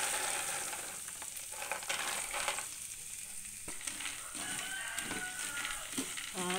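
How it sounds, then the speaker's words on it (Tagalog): Thin peanuts fry in hot oil, a steady crackling sizzle with irregular pops and spatters, close and fairly quiet, with no talking. "Tapos ilalagay ko na yung mani kasi mabilis lang naman tong maprito kasi nga maninipis siya."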